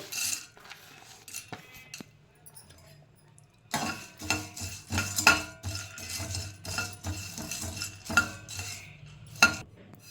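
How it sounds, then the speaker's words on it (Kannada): Pumpkin seeds are fried and stirred in a pan, with a spoon clinking and scraping against the metal in quick irregular bursts, loud and close, after a quieter start. "ನೆಕ್ಸ್ಟು ನಾನು ಪಂಪ್ಕಿನ್ ಸೀಡ್ಸ್ ತೊಗೊತಾ ಇದ್ದೀನಿ, ಅದನ್ನು ಫ್ರೈ ಮಾಡ್ತೀನಿ."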